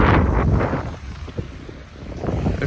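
Wind buffeting a microphone on a beach in Cancun, Mexico, a loud, steady low rumble that surges and dips throughout with no talking.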